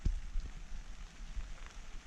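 Steady rain patters on a tent in Sequoia National Park, a dense, even hiss of drops with a few slightly heavier taps and no voices.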